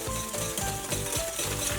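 A thickening pudding-based filling gets stirred in a pot, with rhythmic scraping strokes repeating roughly every half second over a low bubbling sizzle, close and fairly quiet.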